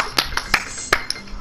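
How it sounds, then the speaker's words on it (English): Applause from a game-show style talent contest in Minecraft, heard as a few sparse, sharp claps spaced across a short stretch rather than a full crowd ovation. "Let's get a round of applause."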